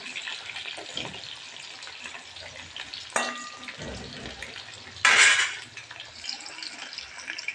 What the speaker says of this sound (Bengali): একটু লাল লাল করে ভেজে নিই আলুটা